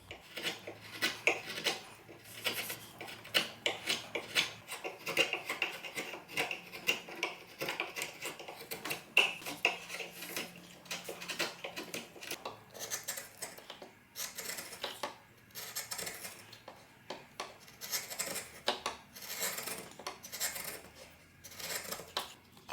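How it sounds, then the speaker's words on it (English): Repeated short scraping strokes of a sharp chisel shaving wood, crisp rasping cuts in an uneven rhythm, close and fairly quiet. "the satisfying sounds of a sharp chisel"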